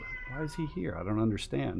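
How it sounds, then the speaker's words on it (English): A cat meows repeatedly in drawn-out, wailing cries close by, with a person talking over and between the calls. "She's just sitting back there meowing her head off"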